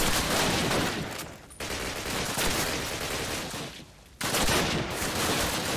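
Gunfire in a shooter video game: dense, continuous bursts of shots and fusillade that fill the whole stretch, broken by two brief dips, loud and close with no clear talk over it.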